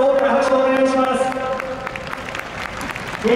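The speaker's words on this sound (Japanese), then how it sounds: "大きな拍手をお願いします。" Broad applause at a Super GT 2020 GT500 season champion team award ceremony, steady and close across the whole stretch, with an announcer's voice carrying over the clapping.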